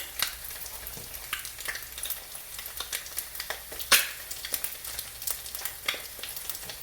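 An egg frying in a pan gives a steady crackling sizzle with frequent sharp pops and one louder spatter near the middle, close and continuous, with no voices.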